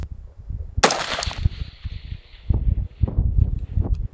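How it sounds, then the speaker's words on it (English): AR-15 rifle fired at a target 770 yards away, one sharp loud crack with a short trailing echo, followed by rustling handling noise. "For a first shot at 770, that wasn't too bad."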